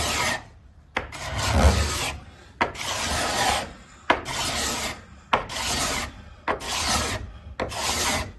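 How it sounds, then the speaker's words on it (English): Epoxy being shaved and scraped off the wooden bottom of a CLC teardrop camper, heard as loud, close rasping strokes, about seven long rhythmic passes separated by short pauses, with no talking. "Shave all that epoxy off."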